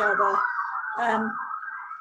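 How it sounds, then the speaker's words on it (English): Ambulance sirens wail outside, rising and falling through two sweeping cycles at moderate loudness, with a faint voice briefly underneath. "Gosh, I wonder what's happened with all those ambulances."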